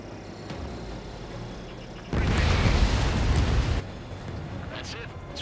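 An enemy bomber being shot down and exploding in Ace Combat 7, a loud, roaring blast that swells suddenly and rumbles for about two seconds before dropping back to jet noise, with radio chatter around it.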